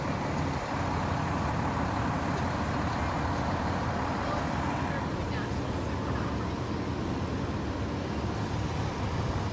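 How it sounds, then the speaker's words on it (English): A steady roar of cars and trucks rolls past in a high school senior parade, dense road noise continuing without a break while people nearby talk and call greetings. "All them cars."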